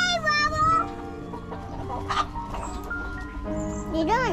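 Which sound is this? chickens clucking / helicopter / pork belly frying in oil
chickens clucking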